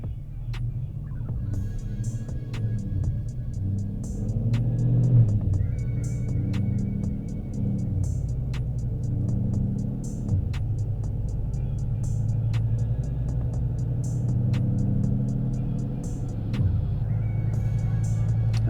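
A Whipple-supercharged 6.2L GMC Sierra Denali truck runs on a dyno with a steady, deep rumbling drone and periodic ticking, continuous and close throughout.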